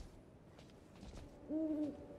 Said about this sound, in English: The glowing-eyed owl.